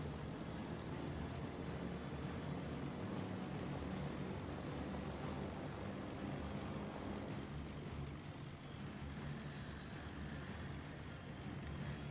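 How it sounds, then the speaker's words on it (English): Dive bomber aircraft engines in a video game, a steady droning engine roar that holds for the whole stretch, fairly faint and without talk, shifting slightly in tone toward the end. "Oh wait, these are the dive bombers again, right?"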